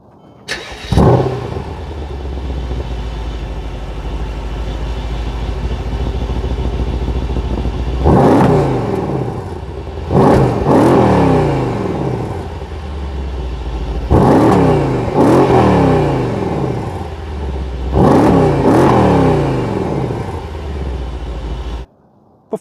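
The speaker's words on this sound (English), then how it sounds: "AMG models have always sounded amazing from the factory" A 2016 Mercedes-AMG E63 S starts with a loud bark, then idles in a deep burble between several sharp revs that rise and fall back, close and alone.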